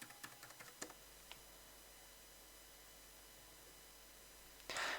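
A password typed on a computer keyboard, a quick run of soft close clicks in the first second, then quiet with one last tap and a brief rise in noise at the end.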